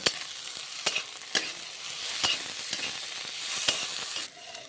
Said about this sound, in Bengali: এই গাজর কুচিটাও একসঙ্গে দিয়ে ভালো করে আমি নাড়িয়ে নেব